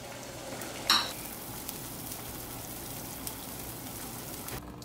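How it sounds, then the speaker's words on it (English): Instant spicy noodles bubble in a pot of boiling water, a steady soft seething hiss with a brief clink near the start and a few light taps. "Natalie, what are we boiling? Noodles."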